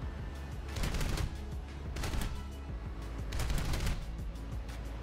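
Cannon and gun bursts from a Shenyang F-5 jet in War Thunder air combat, coming in several rapid bursts over a steady low engine rumble, loud and close, with no talking.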